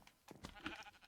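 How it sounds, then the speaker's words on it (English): Faint, short sheep bleats from Minecraft livestock, a few quick wavering calls in a quiet scene. "And we've got some sheep over here."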